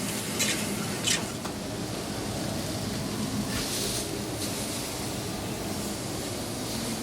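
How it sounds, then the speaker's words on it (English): A roux of flour and butter simmers gently over low heat while being stirred, giving a steady close bubbling hiss with a few brighter scraping strokes and no talking. "I've made a roux with flour and butter, simmered gently over a low heat"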